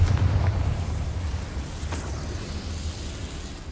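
A Confringo fire spell exploding in the video game Hogwarts Legacy, a single loud booming blast at the start followed by a rumbling, crackling decay, with no voices.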